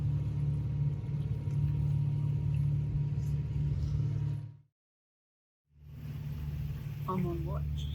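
Sailboat motoring under engine at night, a steady low drone close by that drops out briefly and returns, with faint voices underneath.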